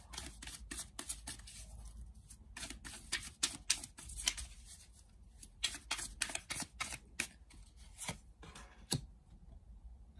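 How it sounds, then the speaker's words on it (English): Tarot cards being shuffled and drawn, with rapid bursts of close, crisp flicking and riffling clicks broken by short pauses, fairly quiet and without talk. "Let's pull out a few more cards,"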